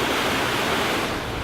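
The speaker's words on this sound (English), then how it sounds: "we got to climb up over this little waterfall thing here" A small waterfall on the Keweenaw Peninsula roars in a dense, constant rush of falling water, loud and close, steady throughout with no voices.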